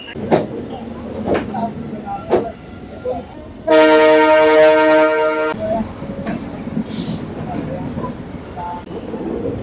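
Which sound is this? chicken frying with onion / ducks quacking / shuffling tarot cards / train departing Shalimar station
train departing Shalimar station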